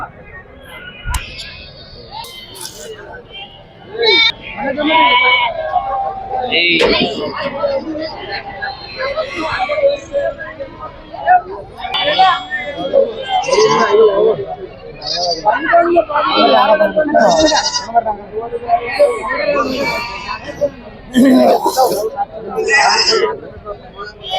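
Sheep bleat repeatedly at a busy sheep fair in Kukanapalli, their calls rising over steady crowd chatter and nearby talking voices throughout.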